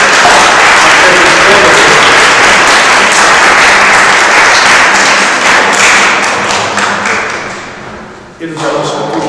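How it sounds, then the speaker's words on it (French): Congregation applauding young participants at an anticipated Sunday Mass for the second Sunday of Advent in a church in Bages: loud, dense clapping fills the space, fading near the end as a voice speaks briefly. "nous pouvons même les applaudir pour leur participation active"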